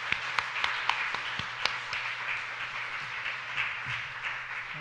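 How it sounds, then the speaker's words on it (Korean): A church congregation claps together at a mission report service, a dense, steady patter of many hands sustained through the whole stretch with a few sharper claps standing out, moderately loud and heard in a hall without speech. "우리 격려의 박수 꼭 한번 쳐주면 좋겠습니다."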